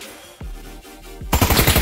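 Rifle shots in the VR shooter Pavlov: two separate loud cracks, each followed by a short echo, then a fast burst of rapid automatic fire at the end.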